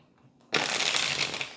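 Tarot cards shuffled in a quick, continuous riffling burst that starts abruptly after a brief quiet moment and stays close and fairly loud to the end, with no talking.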